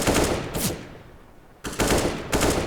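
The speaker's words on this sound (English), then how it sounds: "Spraying some bullets through Ivy" Bursts of M4 rifle fire in a Counter-Strike match, two loud rapid automatic sprays near the start and end separated by a quieter gap.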